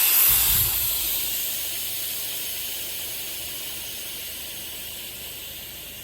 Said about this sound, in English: if you want to release the pressure in the tank, you should open this valve, and it will release